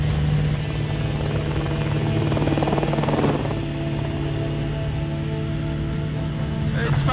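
Homebuilt helicopter running close by, a loud steady whine with a rhythmic rotor beat that swells and eases slightly, with faint voices under it.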